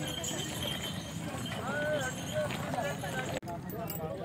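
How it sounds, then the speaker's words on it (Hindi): Horse hooves clip-clop steadily on the ground at the crowded Pushkar camel fair, a mare passing close by while people talk throughout and the noise of the fair surrounds it. "क्या घोड़ा है। घोड़ी है?"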